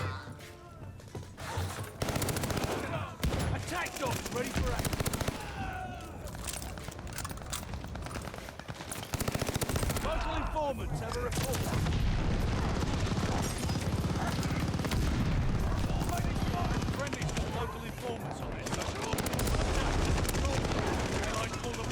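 Gunfire and shotgun blasts in a Vanguard multiplayer video game, with dense rapid shots, crashes and booms piling up almost nonstop, loud and close, and a voice talking over the battle now and then.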